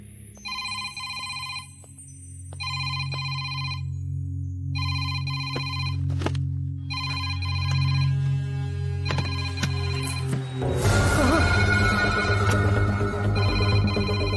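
A phone rings repeatedly in an even electronic pattern of bursts over low background music, with a louder musical swell near the end.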